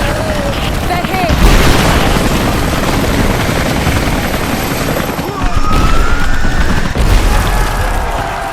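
Loud, chaotic combat din from Rise of the Tomb Raider as attack helicopters take hits and blow apart, heavy booming bursts and rotor roar filling the scene, with voices speaking over the noise.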